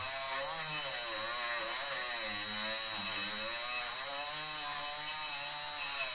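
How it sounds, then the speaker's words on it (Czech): A cheap Lidl angle grinder grinds continuously with a steady high whine and gritty, wavering tone throughout, its disc shedding fragments, loud and close, with no voices. "to už jste asi pochopili z toho, jak se tady brousí"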